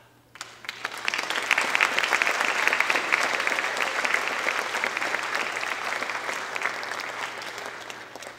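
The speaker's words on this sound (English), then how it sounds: "I want to give her a roaring applause." Audience at a school district Innovator of the Year awards ceremony breaks into loud, sustained applause, many hands clapping steadily for several seconds after a brief quiet start, with no talk over it.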